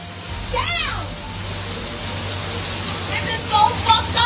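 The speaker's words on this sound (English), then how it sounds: "It was always gonna rain." Rain falls steadily outdoors as a hiss of drops on surfaces, with children's voices and other talk heard over it.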